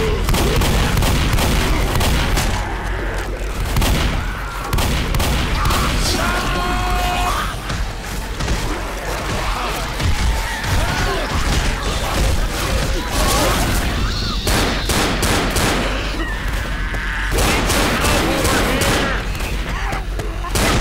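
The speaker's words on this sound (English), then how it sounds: "Grenade!" Gunfire and grenade explosions crash in the zombie shooter Left 4 Dead on expert difficulty, with dense rapid shots and heavy booms sounding continuously and loudly over the whole stretch, mixed with voices.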